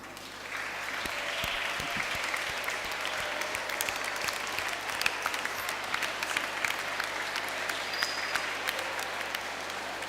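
A congregation at a school Ash Wednesday Mass in Gikondo applauds students, a steady, dense patter of many hands clapping at a moderate distance and sustained for the whole stretch.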